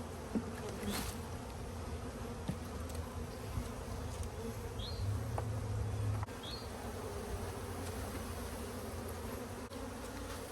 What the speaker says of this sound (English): I'm just going to put some of the bees in.